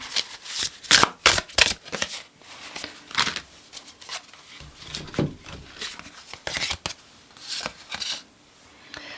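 Tarot cards shuffled by hand in repeated close, crisp riffling bursts with short pauses between them, alone and fairly quiet.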